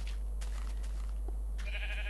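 Sheep bleating in the video game Minecraft, a few short, faint calls scattered across the moment with low background hum and no talking.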